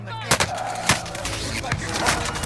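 Gunfire and explosive airstrike impacts in the Call of Duty Modern Warfare video game, with several sharp, loud blasts and shots over a dense, continuous combat din.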